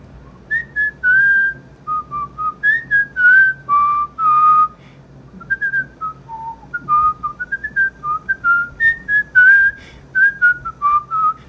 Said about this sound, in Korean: 저 휘파람은 진짜 잘해요.